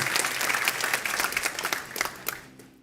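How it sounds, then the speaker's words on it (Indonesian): A church congregation breaks into a short burst of applause at an Indonesian sermon, dense clapping that thins out and fades to quiet within a few seconds. "Beri tepuk tangan untuk kebenaran ini."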